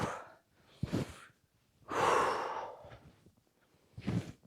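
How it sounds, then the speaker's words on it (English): Deep, forceful breaths during an upper-body warm-up with arm circles: four separate audible inhales and exhales with sigh-like, gasping texture, close and clear, with quiet pauses between them and no talking. "Breathing deep."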